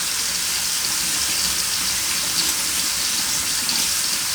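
Water runs from a kitchen tap while washing up tongs. It is a loud, steady gushing hiss that goes on unbroken, with no talking.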